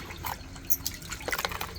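Raw mangoes, five kilos of them, are rubbed and sloshed by hand in a vessel of water while being washed for pickle, giving close, irregular splashes and drips in short bursts.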